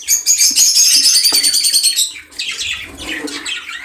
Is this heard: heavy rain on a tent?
no